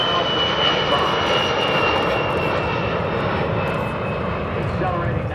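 A Scaled Composites WhiteKnightTwo aircraft flies at Edwards AFB, its engines giving a loud, steady roar that holds throughout, with faint voices audible underneath.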